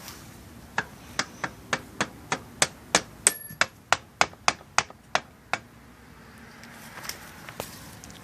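A series of about fifteen crisp, evenly spaced taps knocks the axle out of the wheel of a Zero electric motorbike, close and fairly loud at first and tapering into fainter scattered knocks.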